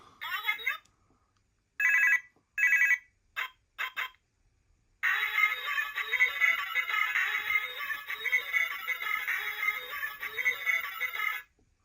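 A 2006 Doctor Who toy mobile phone fitted with new batteries rings out in short electronic bursts, then settles into a sustained, warbling ringtone, loud and close with no talk over it.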